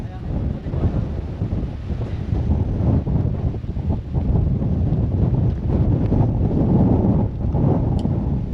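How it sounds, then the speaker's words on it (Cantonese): Strong wind from a typhoon under signal no. 3 roars steadily as a heavy, broadband buffeting against the microphone for the whole stretch, with only brief dips in force. "大風吹"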